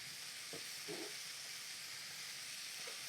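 Shrimp sautéing in butter in a pan on the stove, making a faint, steady sizzle and hiss with a few soft stirring clinks.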